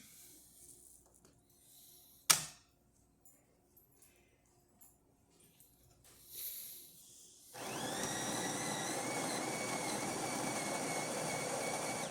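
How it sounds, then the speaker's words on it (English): A Jura S9 automatic coffee machine, just serviced, ticks and clicks quietly before a loud, steady whirring hum starts and runs on as it makes an espresso shot. "let's go ahead and test it, make espresso shot on it"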